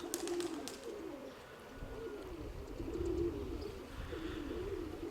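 Pigeons coo repeatedly from above a house and dovecote, a steady low murmuring of calls over faint outdoor background noise, moderately near and continuous throughout.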